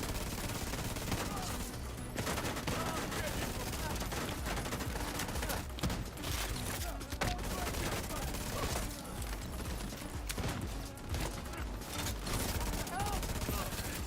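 Submachine gun fire in The Division 2, with sustained rapid bursts and clattering shots filling the scene, dense and continuous with game noise under a voice.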